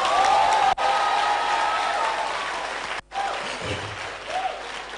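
A live roadshow audience in Ghana claps steadily and loudly for about five seconds, with a brief break and a few voices calling out above the broadband applause.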